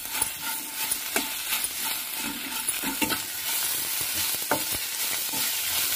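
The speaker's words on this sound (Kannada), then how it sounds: "ಇದನ್ನು ನಾವು ಒಂದು ಸ್ವಲ್ಪ ಕೆಂಪಿಗೆ ಹುರ್ಕೋಬೇಕು. ಎಣ್ಣೆ, ಅರಿಶಿನ, ಉಪ್ಪು, ಒಂದು ಸ್ವಲ್ಪ ಖಾರದ ಪುಡಿ ಹಾಕಿದ್ದೀನಿ." Okra frying in oil with turmeric, salt and chili powder, a steady close sizzle with sharp scraping stirs from a spoon or spatula throughout.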